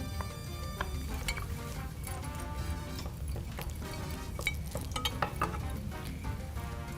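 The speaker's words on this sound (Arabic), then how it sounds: "حطينا الزيت ونحط الثوم" Garlic frying in oil in a pot, a faint continuous sizzle under clattering utensils and clinking pans, with busy kitchen activity throughout.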